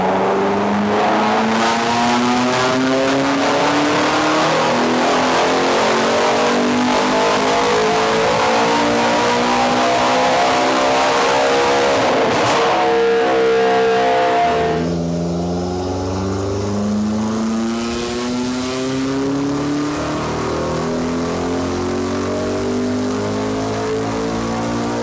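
A McLaren engine screams through a hard test pull, a loud, close, continuous wail climbing steadily in pitch. It cuts back abruptly partway through, then settles to a lower, rougher drone, with no voices over it.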